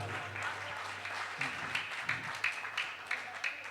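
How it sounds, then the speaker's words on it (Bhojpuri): An audience at a stage event claps loudly, a steady wash of applause with sharper individual claps cutting through, and faint talk underneath. "एक बार जोरदार ताली बजा दीजिए"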